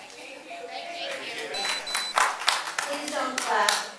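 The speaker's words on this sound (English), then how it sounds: "Please don't clap." Scattered audience clapping and crowd noise at a tense county school board meeting in Flagler County, Florida, rising in bursts with sharp individual claps and murmuring voices.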